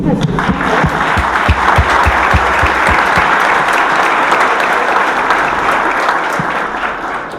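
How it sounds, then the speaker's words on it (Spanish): Audience at a panel discussion on transparency reform breaks into loud, sustained applause, with a few sharp distinct claps at the start before the sound thickens into dense, even clapping. "alguien quiso aplaudir, hay que aplaudir."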